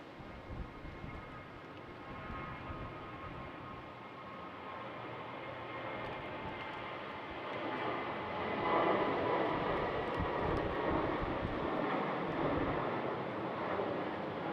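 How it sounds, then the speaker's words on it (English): A Boeing 737-800 airliner bound for Athens at Schiphol in winter, heard as a steady broadband engine roar that swells gradually toward the middle of the clip and holds there, moderately distant, with no talk. "we have a 737-800 going to Athens."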